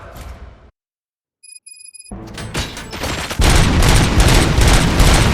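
Gunfire in the RoboCop: Rogue City video game: loud bursts of shots, a brief near-silent gap with faint electronic tones, then sustained, dense rapid-fire volleys that build to a heavy, continuous barrage.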